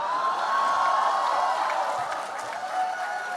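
Audience at a closing debate at the Jaipur Literature Festival claps and cheers, a steady wash of applause with scattered whoops, moderately loud and sustained.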